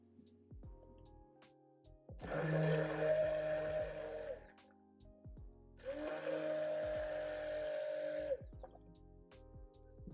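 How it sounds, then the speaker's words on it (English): A handheld stick blender whirs through soap batter colored with chestnut brown mica in two bursts of a few seconds each, with quiet pauses around them and no talking. "And give it a mix"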